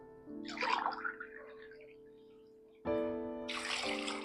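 Water splashes from a cup into a cooking pot holding rice and lentils for sambar rice, in two separate pours with a quiet pause between them, close and moderately loud.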